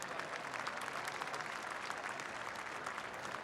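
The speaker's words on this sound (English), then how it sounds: "let's have another round of applause" A crowd in a gym at a boys' state high school basketball championship ceremony gives a sustained round of even, continuous applause, heard from a distance and fairly soft.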